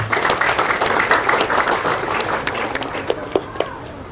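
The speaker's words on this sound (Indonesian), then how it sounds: "Mohon berikan tepuk tangan sekali lagi." An audience at a community gathering in a village applauds in a dense, lively burst that thins into a few scattered final claps near the end.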